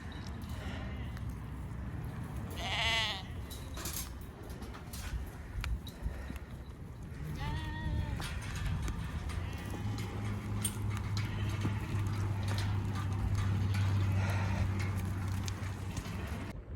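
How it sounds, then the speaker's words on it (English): Rams and sheep in snow and rain clatter through a chute, a busy patter of hooves on hard ground with occasional thumps and bleats, close by, while a person talks to them now and then. "I don't know what got into the sheep, but they behaved spectacularly"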